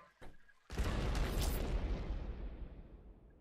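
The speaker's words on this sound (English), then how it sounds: "Explosion pushed me up into the spikes more." An explosion in the video game Happy Wheels: a faint click, then a sudden loud boom that roars on and slowly fades over a few seconds.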